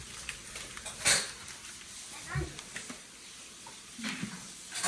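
Dishes clatter and clink faintly in a sink, with scattered knocks of plates and utensils over low background noise.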